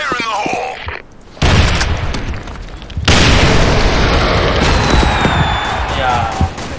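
An explosion roars in a multiplayer shooter game after a grenade throw, a loud broadband boom that swells twice and lingers as a dense rumble, with game noise and brief voices mixed in.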